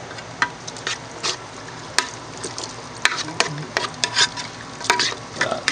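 A spoon stirs drained canned pinto beans into green chili in a pot, producing repeated scraping and clacking strokes over a low simmering sizzle, close and fairly loud, with no talking.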